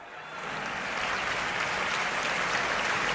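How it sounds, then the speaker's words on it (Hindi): An audience at a Hindi comedic poetry gathering (hasya kavi sammelan) claps together. The dense applause swells from quiet to full within the first second and holds steady, with no speech. "तालियां इधर से भी बजा दीजिए"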